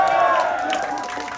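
A comedy club audience cheering and clapping, loud crowd noise with whoops and overlapping voices filling the brief moment.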